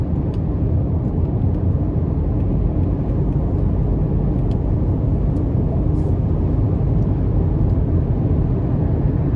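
A 2024 Ford Bronco Sport with a 1.5-liter turbo three-cylinder cruises on the interstate in eco mode, giving a steady, loud broadband road and wind rumble heard from inside the cabin throughout, with no talking.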